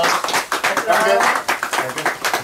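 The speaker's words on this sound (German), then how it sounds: "Applaus!" A small group applauds a helper at a barbecue gathering of bloggers, with scattered hand claps running beneath lively overlapping talk.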